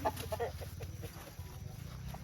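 Chickens clucking near a rural home in Thailand, several short, soft clucks over a steady low background hum, with no talking.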